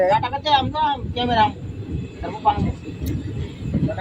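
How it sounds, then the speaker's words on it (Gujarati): Passenger train interior with a low, continuous rolling rumble of the carriage beneath people talking nearby. "ટ્રેનમાં બેસી ગયા છીએ અમે"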